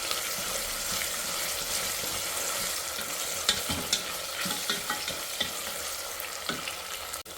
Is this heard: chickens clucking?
no